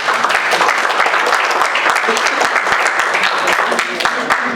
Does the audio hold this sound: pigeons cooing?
no